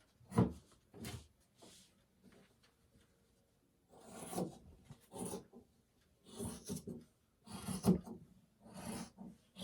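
Scissors cut craft material into a small tree shape for a no-sew dollar-store gnome. Quiet, intermittent snips and rustling bursts come close up, with short pauses between cuts.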